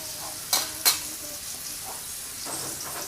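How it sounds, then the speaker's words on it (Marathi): Fish frying in a pan with tomato, a steady soft sizzle with two sharp scraping clinks of a utensil near the start, close by and without talk. "ते एका साईडने तळून झालेत मासे दुसऱ्या साईडने टाकायचे"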